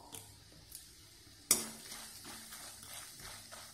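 Fennel seeds drop into hot oil for puffed rice namkeen, setting off a sudden sharp crackle that settles into a steady soft sizzle with light stirring, close and fairly quiet.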